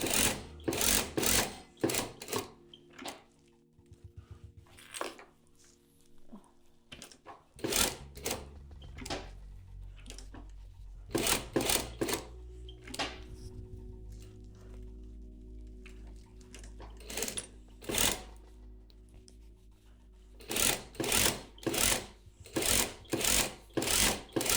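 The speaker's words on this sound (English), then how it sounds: "it's kind of like a continuous line drawing with a sewing machine" A sewing machine stitches a tote bag in a continuous line, running in bursts of loud rapid clatter with quieter pauses between runs, alone without talk.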